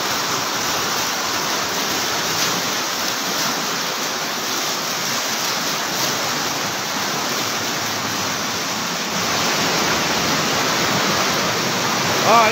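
Floodwater rushing along a flooded street in Libon, Albay, a steady loud broadband roar like a stream or waterfall that continues unbroken throughout, with no speech.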